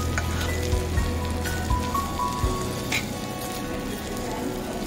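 Chicken sisig with egg sizzling on a hot plate at a Filipino restaurant in a mall, a steady close crackling hiss with occasional louder pops, no talking.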